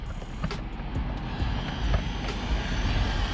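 E-Revo 2.0 RC truck motor running at full throttle, a continuous high-pitched electric whine with rough rumbling from the drivetrain, loud and steady across the whole stretch without any speech.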